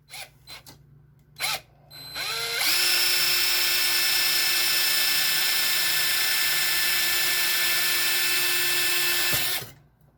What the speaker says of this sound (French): On va maintenant percer.